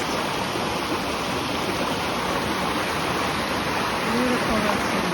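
Water from Guinea Brook, a mountain creek on the Appalachian Trail in Massachusetts, rushing steadily nearby, a constant dense hiss of flowing water at even loudness with no break.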